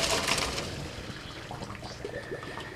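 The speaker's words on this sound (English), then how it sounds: "let's go ahead and drain the pasta" Pasta water being poured from a pot into a colander in a kitchen sink, a steady close splashing pour that starts strongest and settles into a continuous trickle.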